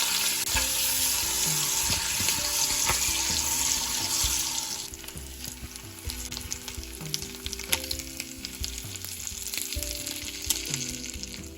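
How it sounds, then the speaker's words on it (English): Bacon frying in melted butter in a pan, a loud, dense, continuous sizzle that drops to a softer crackle after a few seconds, with occasional sharp pops and stirring clicks, no voices. "fry up that bacon"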